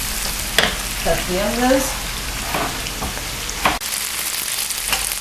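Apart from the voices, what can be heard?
peppers frying and being stirred in a pan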